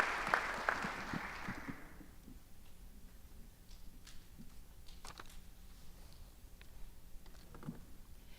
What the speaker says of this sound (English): So if you can please have a round of applause.